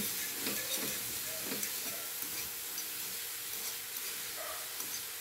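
Corned beef frying with eggs in a pan on a home stove, a soft continuous sizzle with occasional scraping stirs and ticks, close and fairly quiet, with no talking.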